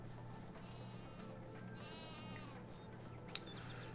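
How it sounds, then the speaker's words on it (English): Sheep bleat on a farm in Farming Simulator 22, a couple of faint wavering bleats over a steady low ambient hum, with no talking. "Got our sheep over here."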